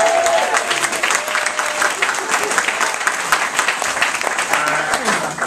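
Loud, dense cheering and clapping from an audience at Michael Chabon's launch for his book Telegraph Avenue, a sustained burst of whoops and applause close by that barely lets up.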